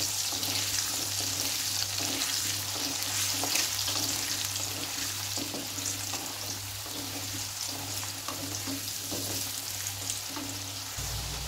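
Potato pieces frying in hot oil with turmeric and salt, a steady dense sizzle with occasional stirring, continuous and close throughout.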